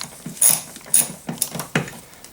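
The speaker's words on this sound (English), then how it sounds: "10 millimeter. Okay, you're going to want to get that in there and I'll just loosen it up." Wrench turning a 10 mm bolt on the door check strap of a Mercedes R129 SL roadster, a series of short close metallic clicks and scrapes in an uneven rhythm, with no talk.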